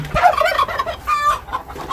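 Hens clucking and squawking up close, a busy flurry of short bursts over about two seconds, with no talking.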